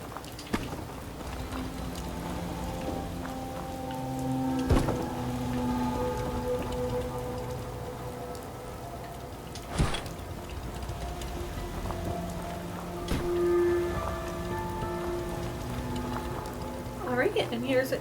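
Steady rain falling in the Fallout 4 game world, a constant soft patter under faint background tones and occasional clicks.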